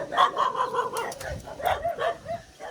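A dog barks several times in quick yips and woofs, moderately close, with faint outdoor background noise.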